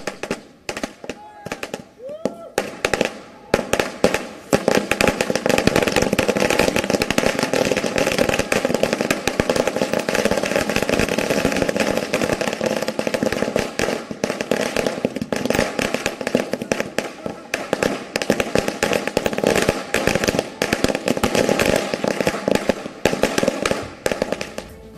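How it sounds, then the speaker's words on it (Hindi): Fireworks go off at the Ghazipur border celebration in a dense, continuous barrage of crackling bangs that last the whole stretch, loud and fairly close, with no clear talk over them. "आतिशबाजी वहां पर की जा रही है।"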